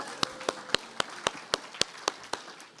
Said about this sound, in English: Again, big round of applause for Hannah for thinking of iced coffee.